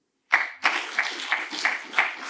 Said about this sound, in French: on va les évaluer à travers le bruit de vos applaudissements